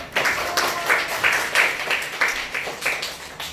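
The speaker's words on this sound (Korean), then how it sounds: "박수 한번 부탁드리겠습니다" Audience applause at a Korean humanities lecture on healing: steady, fairly dense clapping from a crowd that swells in soft waves and continues throughout without any talk.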